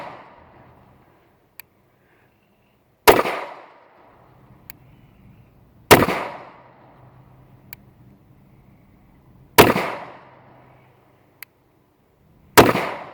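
Five loud, sharp gunshots from a Taurus 709 Slim 9mm pistol, fired one at a time about three seconds apart, each with a short echoing decay and faint clicks between shots.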